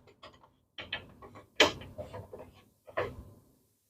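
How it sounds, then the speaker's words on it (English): Upper saw guard with riving knife fitted onto a Shopsmith table saw, giving a series of close metallic clicks, clunks and rattles in uneven bursts, with no talking. "Now we're going to put the upper saw guard with riving knife in."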